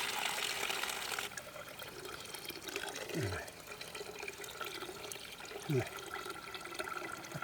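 Water being poured rushes loudly for about a second, then continues as a softer steady flow with faint background noise.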